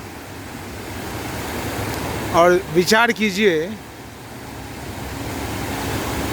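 Sea waves wash ashore at Juhu Beach in Mumbai, a steady broad surf roar running through the whole stretch, briefly overlaid by someone speaking in Hindi.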